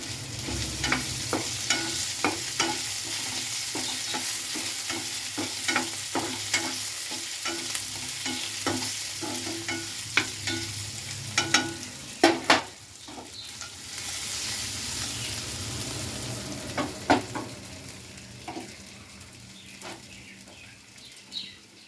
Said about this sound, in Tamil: ஃப்ரை பண்ணிவிட்டு தான் நம்ம தண்ணி ஊற்றணும்.